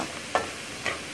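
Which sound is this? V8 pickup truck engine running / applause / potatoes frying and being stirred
potatoes frying and being stirred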